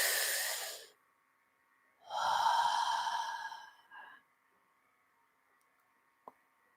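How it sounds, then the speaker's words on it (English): Deep, slow breaths from a live group heart-chakra meditation: a long airy exhale, a pause, then a fuller drawn-out breath trailing off, with a tiny click afterward in near silence. "Big deep breath, everybody."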